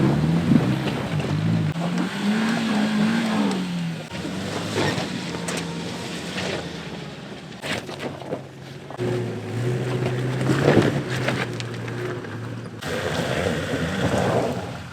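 Vehicles, including a Delica camper van with no lift or modifications, labour up a rocky off-road track, engines droning and shifting pitch at a middle distance, with occasional rattles and knocks throughout.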